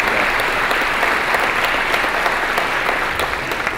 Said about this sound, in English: So a big round of applause for the board members